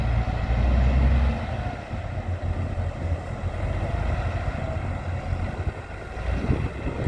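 A Case Puma 210 tractor rated at 210 horsepower pulls a five-body Kuhn plough across a field, its engine a steady, loud diesel drone with a heavier rumble at the start and no talk over it.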